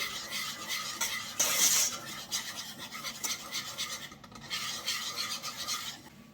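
A whisk stirs continuously in a pot as a gnocchi à la parisienne mixture is brought to the boil, making a quiet, steady metallic rasping and scraping with brief stronger strokes.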